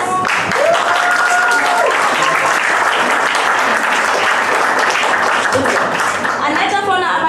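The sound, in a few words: audience applause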